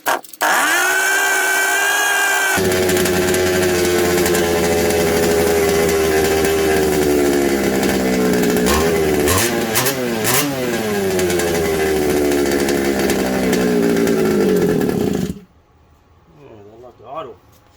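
A second-hand 1/5 scale RC Baja with a small two-stroke petrol engine sputters to life, then revs loudly and continuously in rising and falling bursts before cutting out abruptly, leaving quiet rustling.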